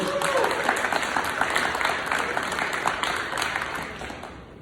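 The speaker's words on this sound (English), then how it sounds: "clap it up for our 7th and 8th graders" A school audience gives sustained applause for 7th and 8th grade students at a middle school leadership ceremony, a dense wash of many hands clapping that fades slightly toward the end.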